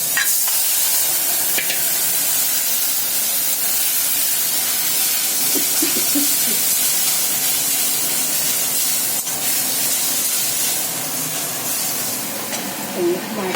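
Cumin, black cumin, chili powder and green chili sizzle loudly in hot oil in a home kitchen, a continuous close hiss and spatter with occasional stirring, while someone talks over it.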